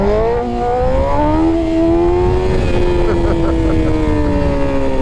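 A 2023 BMW S1000RR motorcycle revs loud and close while riding, its engine note climbing and falling over heavy wind rush. The roar is continuous across the whole clip.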